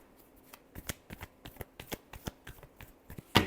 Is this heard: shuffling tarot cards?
yes